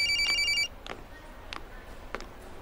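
Telephone bell ringing in a steady electronic trill, cut off after about half a second, followed by quiet room sounds and a few soft knocks.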